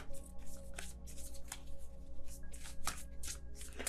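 Tarot cards being shuffled by hand, a steady run of crisp riffling and flicking bursts repeating every half second or so, close and clear with no talking.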